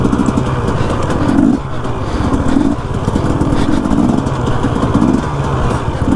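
Dirt bike engine on a rough desert trail near an old military bombing range in Mexico, a loud close steady throbbing drone with small rhythmic surges as the rider holds the clutch in and covers the rear brake.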